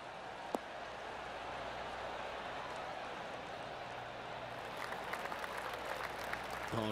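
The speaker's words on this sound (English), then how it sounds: "Oh, golf clap." A gallery crowd at the WM Phoenix Open in the video game PGA Tour 2K23 breaks into light, scattered applause toward the end, faint and rising over a quiet ambient background.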